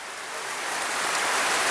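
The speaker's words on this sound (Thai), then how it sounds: "แต่นี่ฝนลงมาแล้ว" Rain pours down steadily on the way out to the rice fields, a soft, even hiss that swells slightly louder over its short span, with no voices.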